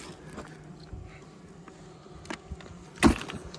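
Bees buzzing faintly in the open air on a cold, frosty day at a wild tree-hollow hive, with a sharp close knock or rustle near the end and no talking.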